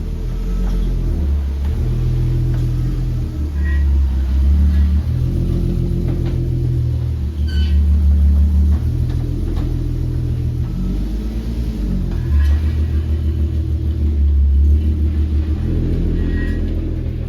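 A Nissan R32 drives down a road, heard from inside. The engine drones loudly and rises and falls with throttle, under a constant road rumble, with no talking.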